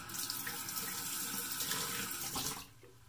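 A bathroom tap runs steadily as a straight razor blade is rinsed under it, a close, continuous splashing that cuts off near the end.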